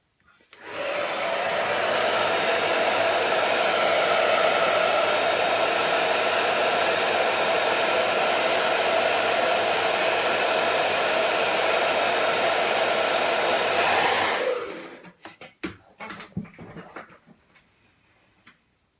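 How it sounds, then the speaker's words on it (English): A hair dryer blasts steadily at close range while drying paint on a camouflage model of the Dark Knight Rises Tumbler, a loud continuous whoosh lasting about fourteen seconds before it cuts off, followed by a few faint clicks and knocks. "quick blast of the hairdryer"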